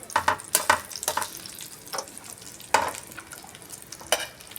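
Thick pieces of katla fish fry in oil in a pan over low heat, turned over partway. Steady sizzling runs under scattered spatula scrapes and knocks, with several sharper clatters, close and fairly quiet, no talk.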